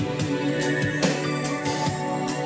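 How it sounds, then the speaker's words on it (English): A music track plays continuously in a recording studio, a steady dense mix with regular rhythmic hits running throughout, moderately loud with no talk over it. "You can hear the track now in the background."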